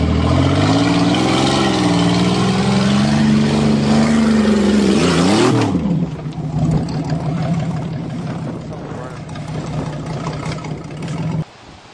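A Buick Century car's engine revs hard and loud at close range, with rising and falling pitch for about six seconds, then settles into a steadier, lower drone that continues until near the end.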